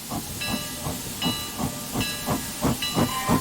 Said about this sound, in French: On entend juste le mécanisme répétitif de la machine à vapeur